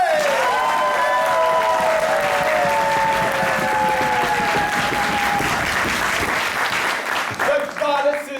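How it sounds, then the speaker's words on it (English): A theatre audience at an improvised mythology show bursts into loud, sustained applause on cue, with voices shouting and cheering through it before the clapping thins out near the end. "a raucous, unnatural, excessive, almost unwarranted round of applause on the count of 3"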